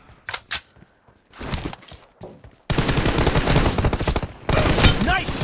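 Gunfire from PUBG Mobile: a few scattered shots at first, then sustained rapid automatic bursts that grow loud and dense, with game announcer voices over parts of the battle.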